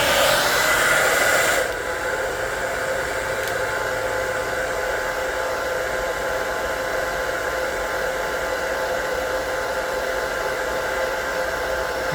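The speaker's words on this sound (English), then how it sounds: "Now I'm going to hit it with a hairdryer real quick so I can handle it." A hair dryer runs steadily to dry acrylic paint on a carved wooden barrel, a constant close whooshing blower hiss that is louder for the first moment and then settles to an even whir with no talking.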